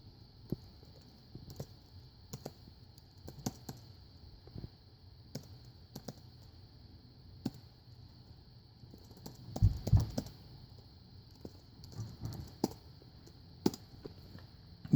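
Laptop keys tapped at an uneven pace to enter a web link, a run of close, light clicks with a brief burst of quicker presses partway through, no voices.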